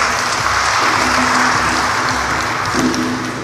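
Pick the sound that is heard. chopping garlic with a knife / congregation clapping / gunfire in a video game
congregation clapping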